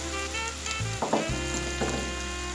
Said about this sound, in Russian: Теперь все жарим на быстром огне.